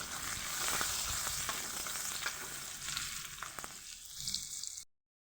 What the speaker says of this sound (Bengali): এই পেঁয়াজটা দিয়ে পেঁয়াজটাকে ভেজে নেব